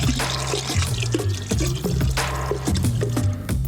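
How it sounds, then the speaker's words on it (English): Water pours and splashes into a vase, with gurgling and clinks as it fills, continuous and close. "we are going to fill another vase with water."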